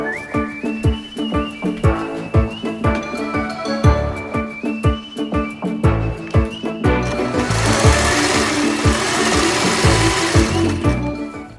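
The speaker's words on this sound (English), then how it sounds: "let's get to sewing." A sewing machine stitches an Irish tweed cloak, close and loud, running in rapid bursts with brief pauses, then a longer continuous run with a rising whir near the end.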